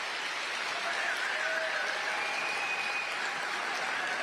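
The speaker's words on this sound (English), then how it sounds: "They're all getting up and clapping." An audience rising to its feet and applauding, a dense, steady wash of clapping from a large crowd, loud and sustained throughout with faint whistles or cheers on top.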